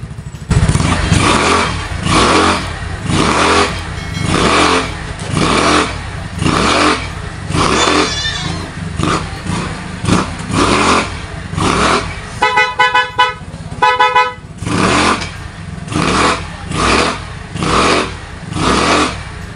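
A Yamaha Mio Sporty motor scooter engine idles and revs repeatedly up close, loud throttle bursts rising and falling, with a short run of horn toots partway through.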